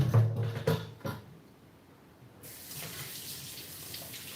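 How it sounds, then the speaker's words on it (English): A kitchen faucet runs while a knife is washed after cutting on a board, with loud splashing and clatter at first, then a quieter steady stream of water hissing into the sink. "I'm gonna wash my knife."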